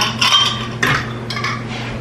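A lid is set onto a glass jar of Boston beans for canning, giving a couple of close metallic clinks and scrapes with a steady low hum behind them.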